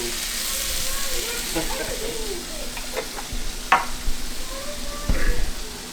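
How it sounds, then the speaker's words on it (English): Garlic sizzles steadily in a hot pan, with scraping knocks from a utensil stirring it around. Close and moderately loud, with no talk over it. "Stir that around, let your garlic cook just a little."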